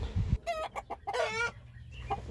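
A pure Americana broodcock clucks in a series of short, close calls with a brief throaty rattle, plus a few low thumps at the start and faint farm background.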